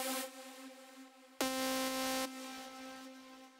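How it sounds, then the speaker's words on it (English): Serum software synthesizer playing an atmospheric lead preset, a bright sustained tone that jumps to a louder, higher note and then drops back, heard alone with no voices. "These are the Atmospheres leads."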